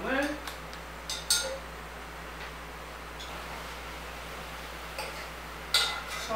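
Pot tilted on the stove while basting braised tofu in soy sauce seasoning, with sporadic metallic clinks and scrapes of cookware and utensils over a low steady hum, close and intermittent.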